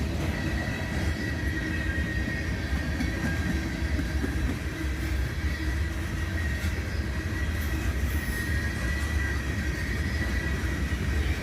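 Freight train led by an AC44CW with an ES44ACH and an SD38-2 trailing rumbles past close by, a steady loud roar of wheels and engines with faint squeals, continuous throughout.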